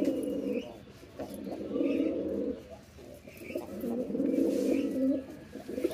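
Male pigeon cooing repeatedly in rhythmic low bursts, fairly close and somewhat subdued, with faint background chirps.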